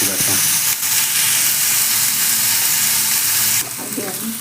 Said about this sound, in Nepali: यसरी हामी भुट्छौँ।